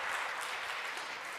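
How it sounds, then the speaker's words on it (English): Audience applause after a talk on unlearning and digital evolution, a brief, even wash of clapping, fairly faint and steady, with no voices over it. "Please give Nikki another round of applause"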